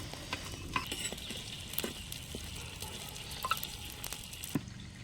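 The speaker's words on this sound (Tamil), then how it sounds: "எந்திரிச்சு முட்டி போட்டு வதக்கிறேன்" Ingredients sauté in a hot pot for a Kongu-style rice and lentil dish, a faint steady sizzle broken by light clinks and scrapes of a ladle stirring.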